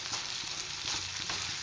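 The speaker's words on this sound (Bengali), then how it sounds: "এবার চিকেন সহ একটু ভালো করে ফ্রাই করে নেব।" Chicken paste fries in a pan with a dense, continuous sizzle and faint clicks of stirring underneath; steady and close throughout.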